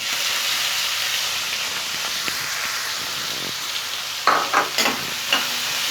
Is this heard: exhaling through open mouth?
no